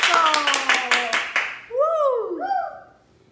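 A small gathering of people claps for mothers at a Mother's Day celebration, a brief burst of rhythmic hand claps for just over a second, followed by a voice speaking over the fading sound.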